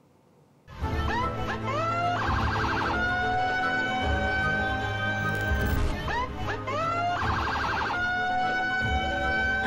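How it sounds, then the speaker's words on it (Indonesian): An emergency vehicle siren on the road blares loud and close, cycling between rapid warbling sweeps and steady wailing tones that keep repeating for several seconds. "Anda pasti sudah tidak asing lagi dengan suara totot wuk-wuk ketika Anda sedang berkendara atau melintas di jalan raya"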